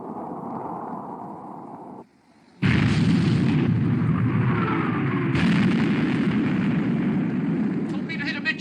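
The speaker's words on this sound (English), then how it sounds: "Open fire, main armament." Main armament guns of a warship fire in an old black-and-white British war film about the Bismarck, heavy booming blasts with a continuous loud rumble of battle noise.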